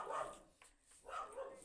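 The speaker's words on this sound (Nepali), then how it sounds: "साह्रै भुक्छ" A dog barks faintly, two short muffled barks separated by a brief pause, distant and low in level against quiet surroundings.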